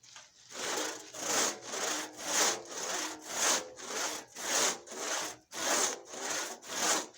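A hand saw cuts through firewood with steady, rhythmic back-and-forth strokes, about ten loud, rasping pulls and pushes close by, with no talking.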